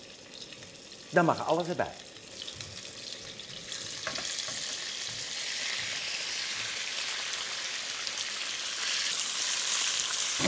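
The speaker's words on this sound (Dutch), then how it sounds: "Een klein stukje vlees eventjes in de pan. Sist het vlees," Pork strips sizzle in hot oil in a pan, the frying hiss swelling and holding steady after a short spoken remark near the start.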